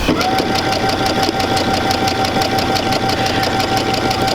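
A sewing machine stitches quilt blocks together, a steady close mechanical hum with rapid rhythmic needle pulses running continuously throughout.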